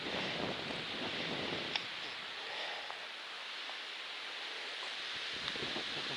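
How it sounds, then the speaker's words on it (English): Strong wind buffets an open hilltop in the White Mountains during a long-distance hike, a constant loud rushing roar with gusty swells and no talking. "And it's super windy."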